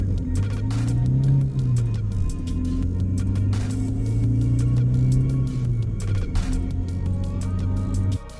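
A manual transmission car eases away from a standstill, its engine held at low revs with a steady, gentle low hum that rises and falls slightly, then drops off abruptly near the end.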